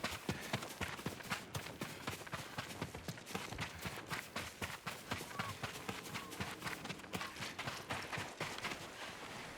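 Horse hooves clip-clop at a run in Ghost of Tsushima, a rapid, steady patter of hoofbeats that fills the whole stretch, with game voices speaking over them.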